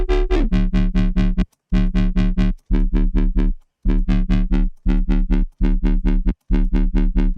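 A lowered synthesizer tone pulses in repeated chopped bursts separated by short gaps, each note rich in harmonics and loud with a gritty, buzzy edge, and no voice is heard.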